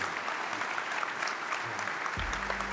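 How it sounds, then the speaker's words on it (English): An audience at a corporate conference general session applauds with continuous, even clapping; near the end a low steady hum enters beneath it. "A big round of applause."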